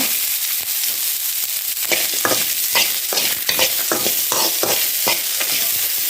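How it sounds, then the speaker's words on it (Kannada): Coriander and cumin dry-roasting in a pan over a good flame, a continuous sizzling hiss broken by regular scraping stirs of a spoon, close and alone. "ಕೊತ್ತಂಬರಿ ಜೀರಿಗೆಲ್ಲ ಸ್ವಲ್ಪ ಕಲರ್ ಚೇಂಜ್ ಆದರೆ ಸಾಕು"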